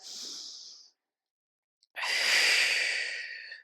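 A deep breath during a Pilates tricep stretch: a soft inhale, a pause, then a longer, louder breathy exhale, close and alone.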